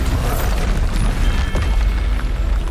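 A Bombarda blast spell goes off in the video game Hogwarts Legacy, a loud, dense booming burst that fills the whole moment with rumbling, crackling debris noise.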